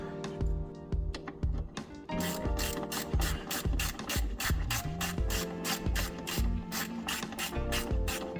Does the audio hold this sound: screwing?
yes